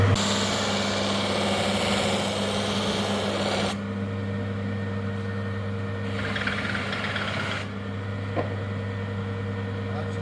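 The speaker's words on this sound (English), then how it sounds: "And then the other wheel, with a different wax, that's the buffing." A workshop buffing wheel loaded with wax polishes burr walnut veneer trim from a Jaguar XJS V12. The motor drones in a steady low hum that holds throughout, with its tone shifting as the wheel meets the wood and pulls away.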